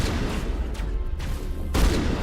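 A new shotgun fired in Mass Effect, two or three heavy booming blasts close together, the last one the strongest, with no speech.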